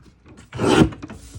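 A card stock panel being trimmed gives one brief raspy slide of a paper trimmer blade lasting about half a second, close by and alone.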